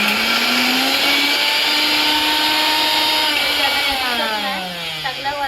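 Kitchen mixer grinder blending garlic-heavy spice paste for mutton biryani, a loud, steady high-pitched motor whine with shifting pitch as the jar contents churn, running continuously throughout.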